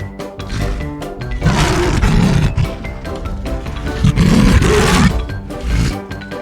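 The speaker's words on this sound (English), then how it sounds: "Our first animal is lion." A lion roaring, loud and close, with two long rumbling roars surging and fading over a steady wild-animal background.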